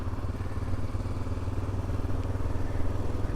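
A 1988 Yamaha Ténéré 600 motorcycle rides along a road, its engine giving a steady, loud low drone with wind rumble throughout and no talking.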